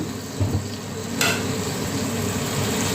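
Ingredients for a Thai stir-fry being stirred in a hot pan over high heat, with a steady sizzle and a few scraping knocks of the utensil against the pan, close and fairly quiet, no voices.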